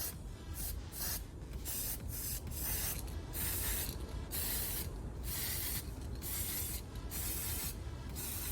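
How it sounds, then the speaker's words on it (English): Crack test spray hisses from an aerosol can onto 318 LA engine parts in a home garage, in about a dozen short bursts with brief pauses between them, close and steady. "we'll give these guys a wipe off and give them a spray"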